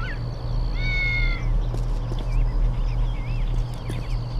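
A cat meows inside the game Postal 2, a short rising meow followed by a few softer mews over a low steady game background hum.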